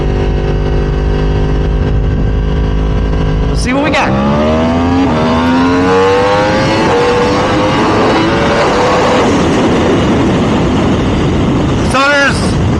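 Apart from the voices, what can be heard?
Yamaha R1M motorcycle accelerating on the road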